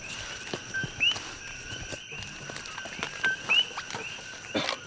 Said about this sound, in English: we would pinpoint with our ears where the coqui frogs are because they have this distinct call